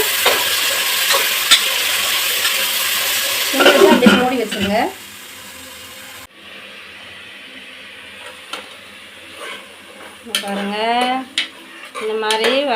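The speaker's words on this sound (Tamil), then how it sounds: "அந்த நாலு தக்காளியும் போட்டு நல்லா கிண்டி விட்டு" Four chopped tomatoes stirred in a pan for tomato rice, with metal spoon scrapes and clinks against the pan over a soft sizzle, broken by pauses and brief voices.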